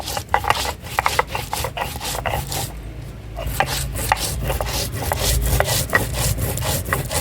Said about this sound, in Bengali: এবার এই দুটোকে বেটে নেব।